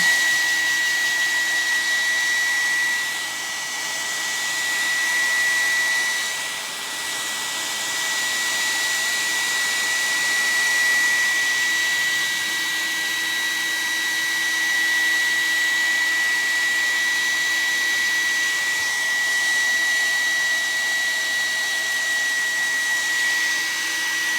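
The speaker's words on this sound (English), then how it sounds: "I'm gonna have to turn on my hair dryer for a moment" A hair dryer runs continuously with a steady, loud whooshing hum and a faint high whine, with a brief dip in intensity near the start, no voices.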